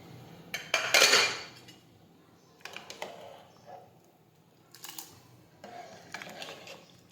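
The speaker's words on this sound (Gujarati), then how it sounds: "હવે આપણે તેમાં ભાત ઓરી દઈશું." Rice poured into boiling water in a pressure cooker while making vagharela bhat, heard as a loud rattling clatter near the start, followed by a few softer scraping and clinking bursts of metal utensils, close and without talk.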